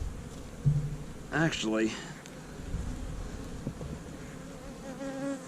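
A honeybee colony buzzes steadily during a winter hive inspection, a soft continuous drone with brief louder passes close by, while a person speaks briefly over it.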